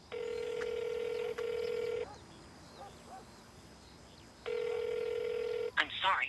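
A phone dialing a call, two bursts of steady electronic tones separated by a pause, with faint voices in between and a brief voice at the end.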